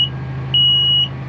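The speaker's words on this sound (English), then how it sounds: "And that's a seed alarm." Seed drill seed alarm beeping: a short high beep, then a longer steady tone about half a second long, over a low tractor engine hum.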